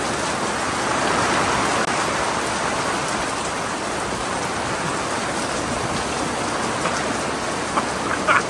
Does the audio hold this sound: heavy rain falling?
yes